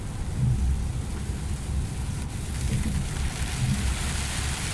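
Steady heavy rain drums on a vehicle during a seaside drive, a dense continuous hiss over a low rumbling of the road and engine, with no talk.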